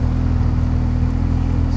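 A 1984 Hyundai Pony 2 being driven before pulling over, a steady low engine and road drone filling the cabin, close and constant with no voices.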